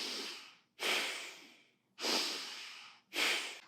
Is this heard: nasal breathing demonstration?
yes